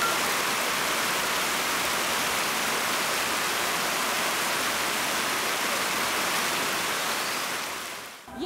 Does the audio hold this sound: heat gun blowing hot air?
no